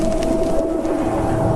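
Pigeons coo steadily around a haunted mansion in a horror cartoon, a loud, continuous burbling layered over a low droning backdrop, with no speech.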